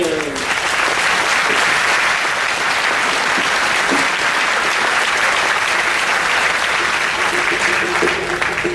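A crowd at a Kokomo Tea Party gathering applauds steadily and loudly for a keynote speaker being introduced. The clapping is dense and sustained, with no break, across the full stretch.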